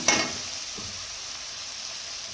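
Chopped vegetables tipped into hot oil in a pan while making a dry sabzi, opening with a quick burst of sizzle that settles into a soft, steady frying hiss.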